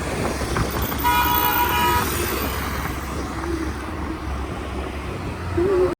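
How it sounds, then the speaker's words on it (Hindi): Busy road traffic at Rispana in Dehradun, with a car horn tooting repeatedly over a steady rumble of engines, and another short honk near the end. "और यहाँ इतना ट्रैफिक हो रहा है ना रिस्पना पे"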